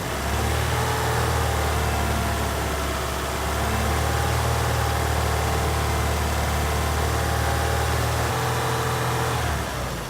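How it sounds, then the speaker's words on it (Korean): A car engine is held at about 2500 rpm by a cable pulled on the accelerator for a high-idle exhaust emissions inspection, producing a steady loud droning hum with constant low rumble throughout and no voices. "여기 같은 경우에는 제가 보여드리기 위해서 직접 악셀에다 케이블을 당겨서 2500을 유지하도록 하겠습니다"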